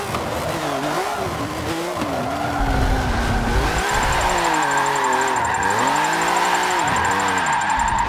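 A tank driven as a car in Forza Motorsport 7 slides and skids, tires squealing steadily over a droning, wavering engine whine with a sustained high whistle, loud and continuous throughout.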